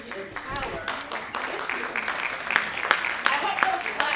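An audience at a Roosevelt medal ceremony claps in scattered, sharp bursts under a speaker who keeps talking, the clapping fairly close and intermittent rather than a full ovation.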